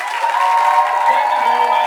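Audience applause for a headliner closing a comedy show, a dense steady wash of clapping lasting the whole moment at even loudness, with no clear voices over it.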